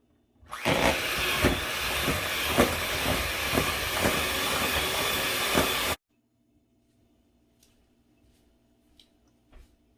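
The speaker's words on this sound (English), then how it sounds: "I'm gonna go grab my mixer and we're gonna mix this together nicely" An electric mixer beats Oreo peppermint cookie dough made from cake mix, a loud steady whirring with rhythmic thumps that runs for about six seconds and then cuts off, leaving near silence with faint handling noises.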